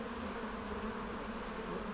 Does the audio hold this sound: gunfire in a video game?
no